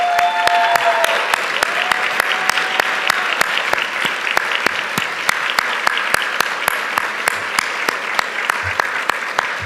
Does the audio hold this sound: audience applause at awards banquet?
yes